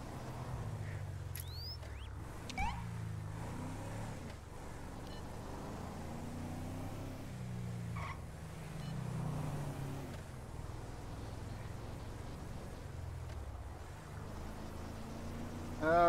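A police car cruising in the LSPDFR game, its engine giving a steady, low droning hum that shifts in pitch through the drive, with a few faint clicks and chirps on top.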